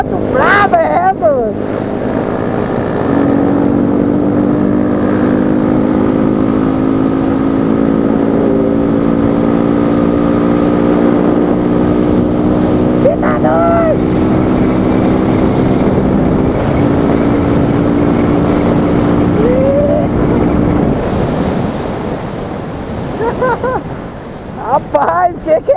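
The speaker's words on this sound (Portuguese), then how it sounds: "Moto brava é essa," A motorcycle engine on a racetrack revs hard and pulls away with rising, sustained tones, loud and close, buffeted by heavy wind noise, with a brief rev near the end.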